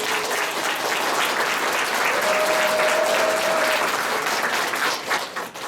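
Loud, sustained applause from an assembled audience for the chairman at the closing ceremony of a poetry recitation academy, dense steady clapping filling several seconds with a faint held tone in the middle, then tapering off at the end.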